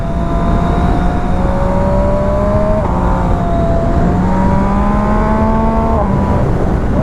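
MV Agusta Brutale 800 RR motorcycle engine heard loud and close, a steady throaty drone with the pitch rising and falling through several revs over seven seconds, with no talk.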